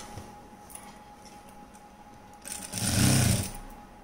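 A sewing machine runs in a short, loud burst as it stitches a plain frock, the motor whirring up steadily for about a second after a quieter stretch of room tone.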